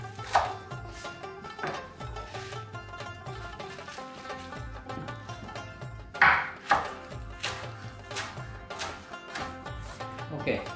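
A knife roughly chops fresh mint leaves for mint chutney, giving a steady run of close, crisp thuds against a cutting board, with a few sharper strikes near the middle.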